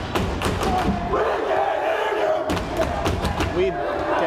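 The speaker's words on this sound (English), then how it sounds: "Otter Valley crowd cranking it up a notch back there with a "We Can't Hear You" chant" Crowd at a girls' varsity high school basketball game chanting rhythmically in the stands, loud and rowdy with thumps and shouts, steady across the whole stretch.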